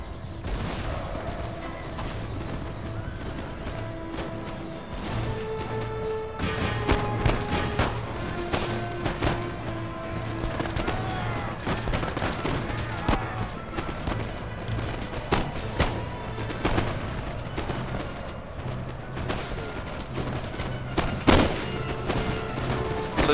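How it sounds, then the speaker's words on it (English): Infantry musket volleys crackle continuously in Empire Total War, dense overlapping gunfire with occasional heavier booms of artillery round shot, a busy sustained battlefield roar with no voices. "all my infantry is still shooting."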